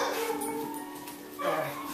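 A young puppy whimpers and yips in thin, high, wavering cries, close and fairly soft, repeating over a couple of seconds with faint room noise behind.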